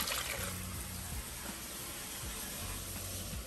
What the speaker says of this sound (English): Alright, fill up that bowl.